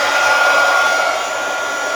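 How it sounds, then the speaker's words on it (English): Embossing heat tool blowing hot air during a craft session, a steady, loud whooshing roar held for the whole stretch with no pause or talk. "embossing heat tool here."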